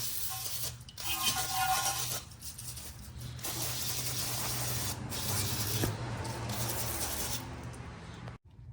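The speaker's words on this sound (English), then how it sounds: "I'm going to hit the hub and the caliper with some brake cleaner." Brake cleaner is sprayed onto the rear brake hub and caliper of a 2016-2021 Honda Civic in a series of close, hissing aerosol bursts with short gaps, running nearly continuously for several seconds.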